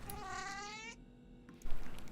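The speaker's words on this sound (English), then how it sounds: "That's a cat." A cat in the video game The Operator lets out a drawn-out, tonal meow, close and clear, followed by a short pause and then a rougher, noisier burst.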